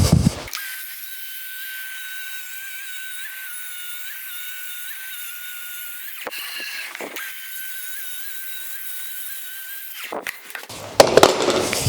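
A track saw cuts wooden table top boards in a long, steady high-pitched whine that runs for about ten seconds. A short break comes partway through, and the cut ends in a clatter of handling noise.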